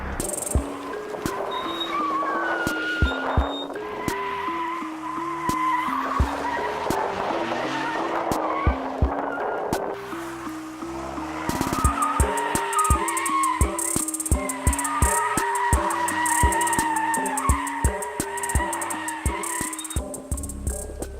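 A Smart car's engine revs hard while tires squeal and skid continuously through repeated donuts, loud and close, with brief easing before revving again.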